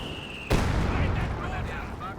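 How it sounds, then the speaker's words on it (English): A heavy mortar shell bursts in the Company of Heroes 2 strategy game during a 2v2 match: one sudden loud explosive impact that rolls into a rumbling decay, following a brief tone. "Heavy mortar targeting the Ostheer mortar."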